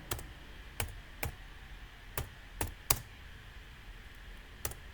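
Keys click on a computer keyboard in short, uneven taps, about seven soft, close strokes spread across a few seconds in a quiet room.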